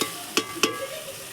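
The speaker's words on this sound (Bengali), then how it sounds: "এবার দিয়ে দেবো সয়াবিন। নাড়াচাড়া হয়ে গেছে, এবার সয়াবিনটা দিয়ে দেবো।" Soybean chunks go into frying potatoes and are stirred, a low background sizzle punctuated by three quick scraping strokes of a spoon in the pan, no talking.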